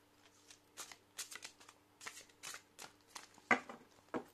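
Tarot cards shuffled by hand in a quiet room: a series of crisp, close papery slaps and riffles in an irregular rhythm, about a dozen bursts, with no talking.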